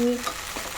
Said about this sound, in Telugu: ఇప్పుడు నేను దీనిలోనే కడిగి పెట్టుకున్న కరివేపాకు వేసేస్తున్నాను